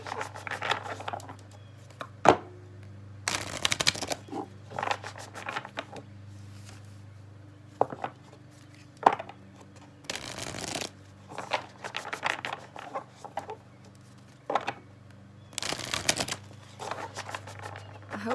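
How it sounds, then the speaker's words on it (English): Playing cards are shuffled close up in repeated bursts of riffling and snapping, with soft handling noises and a low steady hum between shuffles. "I like to listen to me shuffle. ASMR shuffling."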